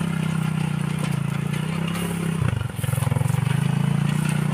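A customized motorcycle working as a plowing tractor in a farm field chugs with a steady, loud low engine drone, dips briefly midway, then settles back into its rhythm.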